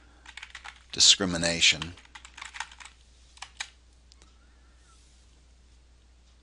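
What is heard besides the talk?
typing search keywords on a computer keyboard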